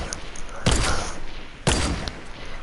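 Two sharp sniper shots crack out in a video game about a second apart, each a loud, sudden blast with a short tail, over a quieter background.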